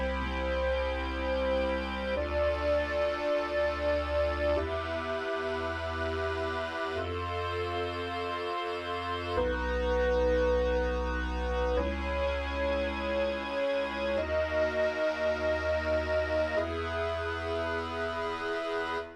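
Two tunings of the same sustained synth chords, equal temperament and Hermode, sound at once, their slightly mismatched pitches beating against each other in a wavering, chorus-like shimmer over a steady low bass, changing chord every couple of seconds with no talk.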